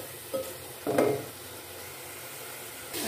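Tomatoes with red chilli, ground coriander, turmeric and salt cook quietly in a pan with a soft, low sizzle, broken by a couple of brief stirring scrapes.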